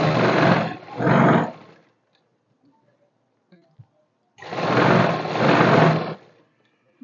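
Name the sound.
sewing machine stitching straight pants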